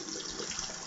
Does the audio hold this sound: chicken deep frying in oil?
no